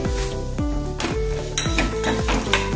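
Cumin seeds crackle and sizzle in hot oil with roasted chana dal, while a metal spoon strikes and scrapes the pan in a steady repeated rhythm, close and loud.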